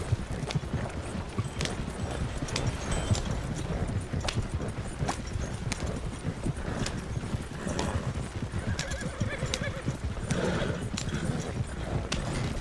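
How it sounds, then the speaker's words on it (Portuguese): Rhythmic clip-clop of horse hooves at a steady walking pace in the video game Red Dead Redemption, with a horse whinnying and snorting now and then, set against a light outdoor ambience. "Meu cavalo tá me seguindo."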